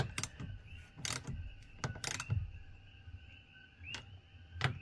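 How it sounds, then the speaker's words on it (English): A hand ratchet snugs the side mirror bolts on a Genesis sedan, giving faint, close bursts of quick clicking separated by short pauses. "I do switch back to a ratchet so I can actually like make sure it's snug"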